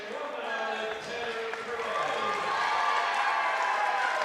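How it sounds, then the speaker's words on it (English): Home crowd in a high school gym at a New Jersey regional tournament final at Mount Olive gives Tanner Perez a loud, sustained ovation, dense cheering and applause building steadily across the whole stretch, with voices mixed in. "Perez getting a huge ovation from his home crowd in his home gym."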